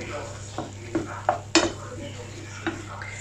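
Minced meat sizzling in a pan over medium heat, with a faint frying hiss beneath several light scrapes and knocks of a utensil stirring against the pan.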